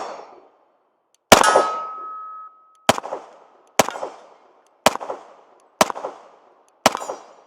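A Kimber Rampart .45 pistol fires six sharp, loud shots, each with a ringing metallic tail and spaced about a second apart, the first one followed by a longer lingering ring.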